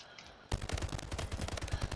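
Railgun fire in the video game Splitgate: after half a second of near silence, a sudden burst of rapid, crackling shots erupts and continues as a dense, rattling volley to the end.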